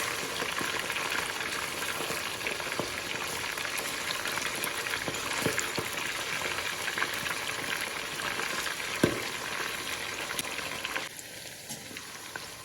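Meat frying in hot oil in a kazan for kazan kebab, a steady dense sizzle and crackle running continuously and close, dropping lower near the end as the pieces are turned.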